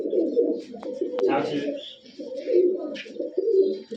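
Three pairs of pigeons coo nearby in throaty, rolling bursts that swell and fade, broken by a couple of sharp clicks and a brief rustle of wings.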